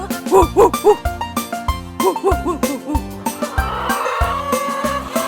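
A chicken clucks in short bursts over a bouncy, sung Turkish version of the children's tune Old MacDonald Had a Farm with steady accompaniment.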